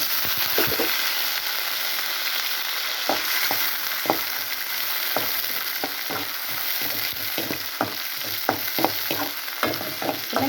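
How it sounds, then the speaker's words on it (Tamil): Onions sizzle and crackle steadily in hot oil, with occasional sharp scraping clicks from stirring, close and moderately loud. "இப்போ எண்ணெய் காஞ்சிருச்சு நம்ம வெங்காயத்தை போடுவோம்"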